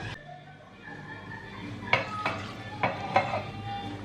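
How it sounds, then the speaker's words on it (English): Kashmiri chilies going into a hot pan, a soft sizzle under several sharp scraping stir strokes from a utensil against the pan. "now he's going to add the chilies"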